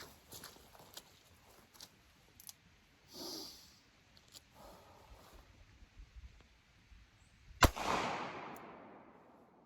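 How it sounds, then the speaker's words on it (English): A Taurus 942M revolver fires one single-action shot outdoors, a sharp loud crack with a decaying tail after several seconds of quiet handling sounds and breathing. "I'm going to do a single action shot this time and see if I hit close to"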